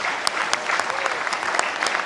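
A conclave audience breaks into loud, sustained applause honoring a Param Vir Chakra recipient on stage, dense clapping with a few sharper individual claps standing out.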